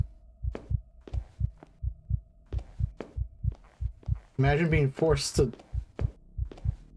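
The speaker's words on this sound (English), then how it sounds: "the heartbeat sound got stuck because I guess because I died with the with my finger up" Steady, looping heartbeat effect from a spooky horror video game, a regular double thump pulsing throughout, with a person briefly talking over it midway.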